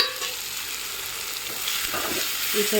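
Sesame seeds, about two spoonfuls, frying in a pan, giving a steady close-up sizzle with light crackles and a slight rise in activity toward the end, no voices.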